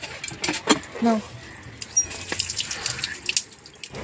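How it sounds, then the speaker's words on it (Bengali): Hand pump on a tube well working outdoors, water gushing and splashing in uneven bursts at close range, with people talking over it. "একটু এই পাম্প কলে পাম্প করে চোখে মুখে জল দেবো"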